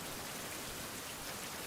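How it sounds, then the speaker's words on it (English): Steady rain falls in a woodland survival video game, a dense, even hiss of drops that stays constant and fairly soft throughout, with no voices over it. "Now it's raining again."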